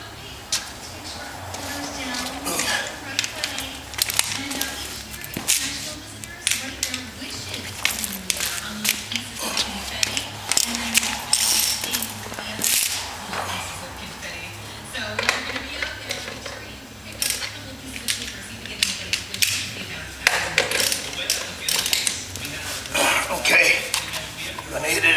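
Hand tools work the axle nut off a Swampworks two-piece swing arm, with scattered metallic clinks, clanks and ratcheting clicks under someone talking throughout.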